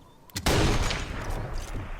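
A single heavy sniper rifle shot from the video game Sniper Elite 4, loud and close, with a sharp onset followed by a long rumbling echo that fades gradually.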